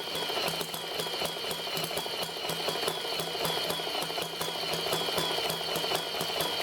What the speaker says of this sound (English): with the bigger pulley, you can hear the engine is running just fine.